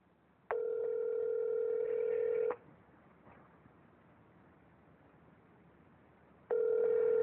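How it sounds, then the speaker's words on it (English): Two long steady electronic ringback tones of an unanswered emergency 911 call, each about two seconds, separated by a long quiet gap, heard clearly and alone with faint line hiss. "Look, I'm calling 911, emergency number."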